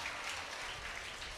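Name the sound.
audience applause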